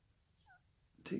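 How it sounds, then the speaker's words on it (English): A cat in a stone-carving workspace gives a single short, faint meow, quickly followed by a louder bump nearby. "getting rid of a cat"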